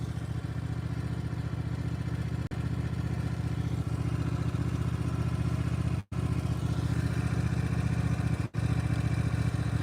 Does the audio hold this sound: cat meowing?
no